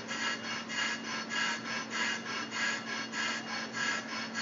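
A brake lathe makes a slow cleanup cut on a brake rotor, giving a steady, close grinding hum with a regular rhythmic pulse about twice a second, alone without talk.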